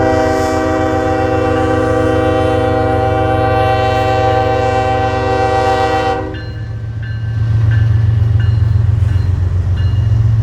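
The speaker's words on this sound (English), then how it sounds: "NS 179 would be the next train through Irondale with a pair of GEVOs for power." Norfolk Southern NS 179 freight train led by a pair of GE Evolution Series (GEVO) locomotives passing through Irondale near Norris Yard, a loud sustained horn blast over heavy diesel rumble, then the horn stops and the engines and rolling cars continue loud and close.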